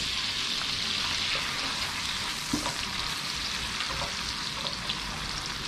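Garlic and onion sauté in a hot pan, a steady loud sizzle with faint stirring clicks throughout, no talking.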